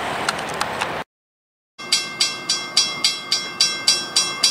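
A southbound CSX manifest freight train rolls past, its wheels striking rail joints in a regular clickety-clack rhythm, loud and close, after a brief cut to silence.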